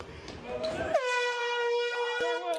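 Air horns blasted by a group of kids inside a Scientology building, a loud sustained honk after a burst of crowd noise, held steady for over a second with a brief break near the end.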